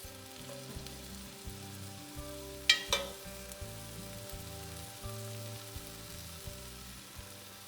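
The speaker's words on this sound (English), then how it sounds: "I've added a couple tablespoons of butter to some heat in a pot. Now I'm throwing in the onions." Onions frying in butter in a pot for onion soup, a soft steady sizzle with a few clicks of a utensil against the pot and a low tonal hum running underneath.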